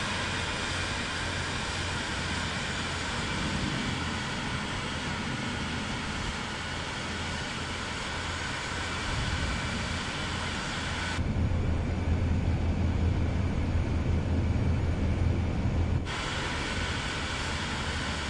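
A steady engine drone from an airplane taxiing to the runway in Microsoft Flight Simulator 2024 on PS5, with a continuous low rumble that briefly grows heavier and louder midway before settling back.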